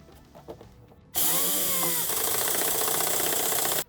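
A power tool drives a self-tapping screw into the chassis of a 2021 Nissan Primastar van to fix a ground connection. After faint handling noises comes a loud, sustained whirring burst of nearly three seconds, rising in pitch as the screw bites, then stopping abruptly.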